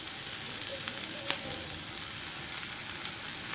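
Onions frying in a pan with green chilies and curry leaves, giving a steady, even sizzle throughout with a few faint clicks of stirring and no talk.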